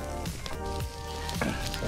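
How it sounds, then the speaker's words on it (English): Fish sizzles over a flame grill, Portuguese style, with oil dripping into the fire; a steady, close crackling hiss runs throughout with small pops and flare-ups and no talking. "Oh yeah, sizzle,"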